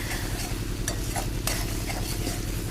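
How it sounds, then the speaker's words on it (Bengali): Spice paste fries in oil while being stirred for a coriander-leaf tangra fish curry, making a loud, dense, continuous sizzle with busy scraping from the spoon. "মশলাটা আমার সুন্দরভাবে কষে গেছে।"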